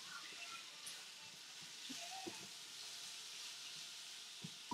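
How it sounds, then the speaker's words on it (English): Minced garlic frying in a pan, a soft steady sizzle and hiss with faint stirring scrapes, quiet and close with no talking. "Throw this minced garlic in here."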